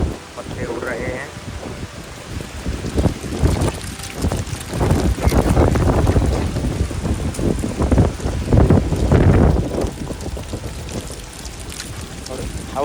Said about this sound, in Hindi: इस समय हवा इतनी तेज है, आप देख रहे हैं सड़क पे पत्ते उड़ रहे हैं।